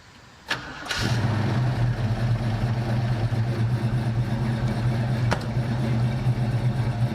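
A car engine cranks and catches, then settles into a steady, close, rumbling idle with a brief blip partway through.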